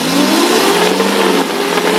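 A 2003 Suzuki Carry Futura Realvan petrol engine is revved while its exhaust is checked, giving a loud, close, sustained rising drone with no talk.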